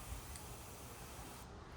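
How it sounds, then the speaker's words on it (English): Air and water squirt out of a pinched rubber balloon neck as a steady, quiet spraying hiss that runs evenly throughout, close up with no voices. "pinch and release the air until you see a little bit of water come up"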